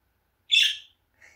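A pet budgie gives a single sharp, bright chirp, close and alone in a quiet room, followed by a fainter short trailing note.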